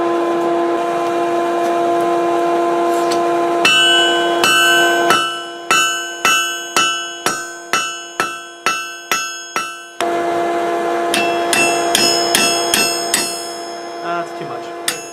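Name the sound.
hammering steel bar to taper a rivet for tongs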